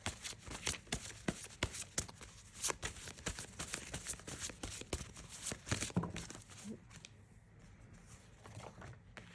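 Tarot cards being shuffled up close, a steady run of quick papery riffles and flicks that fades slightly toward the end, with no talking.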